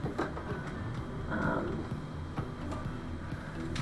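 A sewing machine stitches a handmade passport case, giving a quiet run of soft ticking and tapping pulses with faint background movement throughout.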